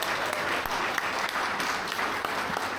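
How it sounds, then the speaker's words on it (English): A gala dinner crowd applauds its honorees in a dense, even wash of clapping from many hands that holds steady from start to finish. "let's give all our honorees this evening another wonderful round of applause"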